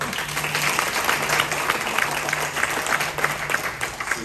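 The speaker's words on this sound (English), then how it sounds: "Give her a round of applause." An audience at a career education event gives a sustained round of applause, an even wash of many hands clapping with a faint low tone beneath.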